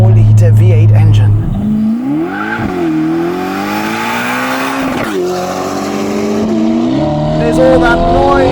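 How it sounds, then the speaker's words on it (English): Novitec-tuned Ferrari Portofino M with a 688 hp twin-turbo 4.0-litre V8 and aftermarket exhaust revs and accelerates loudly, rising through several gears, with sharp shifts and a close, raspy exhaust note. "they have made an exceptional noise coming from this twin turbocharged 4-liter V8 engine"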